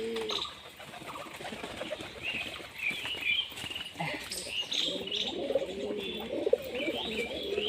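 A pair of Giribaz pigeons cooing in soft repeated low calls, with scattered chirps and occasional wing flaps and patter, fairly faint and close, while a person talks intermittently.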